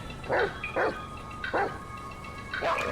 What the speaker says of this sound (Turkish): Oğlum köpeğe tekme attım.